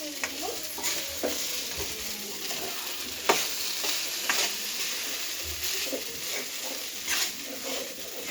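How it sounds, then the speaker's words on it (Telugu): A spoon scrapes and stirs idli upma in a hot pan, which sizzles steadily underneath, with light clinks and scuffs recurring close up throughout. "ఇప్పుడు బాగా కలుపుకోవాలి"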